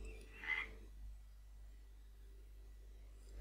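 A single short frog croak sounds once near the start in the La Rana game, faint and brief over a quiet low ambient hum that continues afterward.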